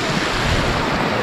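Waterfall seen from above, a dense, loud, steady rush of falling water filling the short stretch with no other sounds standing out.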